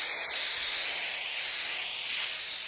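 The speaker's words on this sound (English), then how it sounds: "I'm gonna go ahead and spray into the Jeep." A steady hiss of water spraying from a hose onto a Jeep's closed door seal, close and even, swelling slightly in a couple of spots with no talking.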